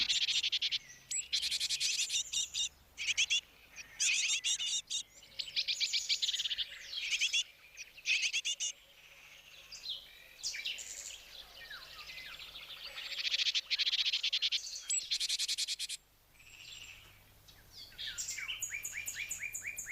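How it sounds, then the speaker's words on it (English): Great tits give bursts of sharp, scolding alarm calls at a genet at dusk in Extremadura, Spain, repeated in quick clusters throughout, with a faint insect hum in the background. "the great tits see her emerge and begin to call in alarm"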